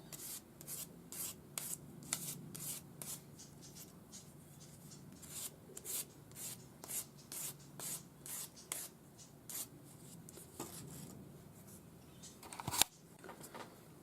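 A forged opal ring is sanded by hand with 800-grit paper on a stick. Soft, close, rhythmic rubbing strokes repeat quickly and quietly, with a sharp tap near the end.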